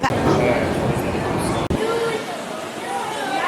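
Steady rumbling of a London Underground train in motion, a loud continuous roar with rattling and a brief dropout midway.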